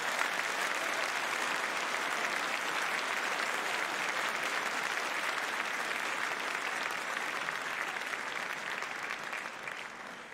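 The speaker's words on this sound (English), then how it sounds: "Please join me in a round of applause for the graduates." An audience at a Faculty of Medicine commemoration ceremony gives the graduates a sustained round of applause, dense and even clapping that fills the hall for about ten seconds and fades slightly at the end.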